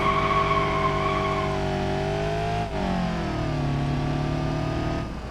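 An automatic car held in first gear in BeamNG revs with a loud, sustained engine whine whose pitch drops and shifts as it drives, with faint tire noise and no talk.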